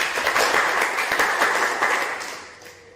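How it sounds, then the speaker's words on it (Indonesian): A crowd applauds with dense, steady clapping that fades away toward the end. "tepuk tangan untuk Mas semuanya"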